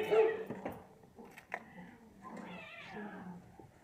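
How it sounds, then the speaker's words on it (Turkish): Cats yowl and snarl in a short, agitated scuffle, with a dog whimpering and a voice murmuring faintly in the background. "Kedilerde büyük bir kavga var."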